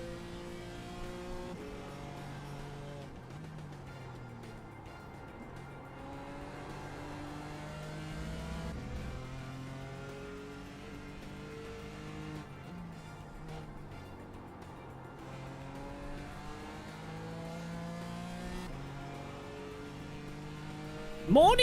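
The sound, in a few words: race car engine revving in the video game iRacing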